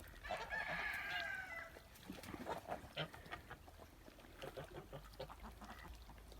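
Loud honking and clucking calls from Kholmogory geese, one gander and three geese with deep voices, burst out at first, then continue as a scattered chorus of shorter calls nearby.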